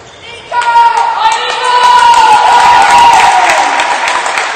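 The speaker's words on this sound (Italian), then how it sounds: "E l'applauso del pubblico per l'esordio in categoria Under 17 per il nostro giocatore" Crowd applause at an Under 17 youth football match, welcoming a player's debut; scattered clapping from spectators rises after a brief pause and sits under a commentator's continuous voice.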